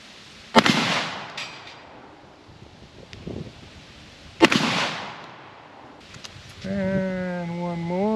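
A cut-down 1947 Remington Model 11 12-gauge shotgun firing Super X slugs outdoors: two loud sharp blasts several seconds apart, each trailing off into echo, with wind noise and a bleating sheep at the end.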